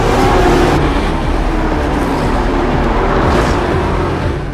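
Formula One race cars drive at a race weekend, a loud, continuous engine roar and rush that swells and fades slightly as the cars pass, with no talking.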